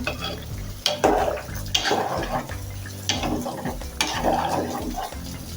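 Mutton curry in a pot is stirred with a spoon over a steady sizzle, the utensil scraping in rhythmic strokes roughly every second, close and fairly loud.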